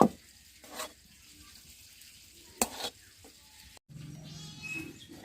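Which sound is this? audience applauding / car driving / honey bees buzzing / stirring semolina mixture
stirring semolina mixture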